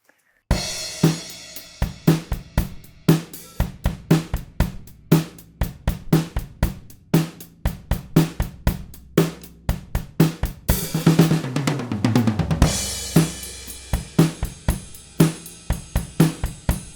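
A full drum kit recorded with a DPA DDK4000 microphone kit plays a steady groove with punchy kick and snare hits, building into a crashing cymbal-heavy fill near the end.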